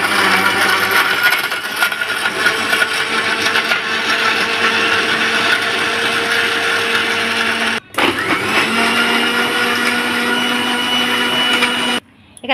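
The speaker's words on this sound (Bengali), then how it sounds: "এখানে জুসটা করবো মিক্সারে।" An electric kitchen mixer blends watermelon juice, a loud, steady high-pitched whir that cuts out briefly partway through, starts again, and stops near the end.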